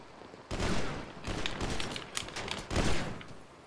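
Gunfire in GTA V roleplay, rapid bursts of shots in several volleys separated by short gaps, fairly quiet and slightly distant.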